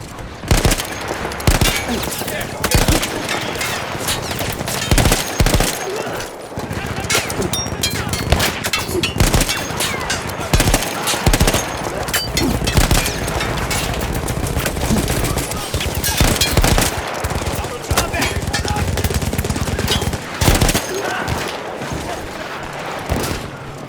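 Sustained machine-gun fire in the Battlefield 1 video game, loud and dense rapid bursts with booming explosions and battle noise running almost continuously.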